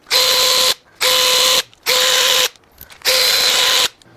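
A wrench works bolts loose on a neglected BMW S85 V10 engine: four loud, close mechanical whirring bursts of about half a second each, separated by short pauses.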